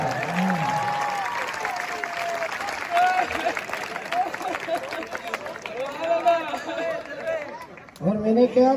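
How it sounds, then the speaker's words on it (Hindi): Audience at a Hindi poetry gathering (kavi sammelan) clapping in a dense, continuous patter that swells midway, with loud voices and crowd noise over it. "सब लोग ताली बजाओ वरना हाथ ऐसे रहेगा।"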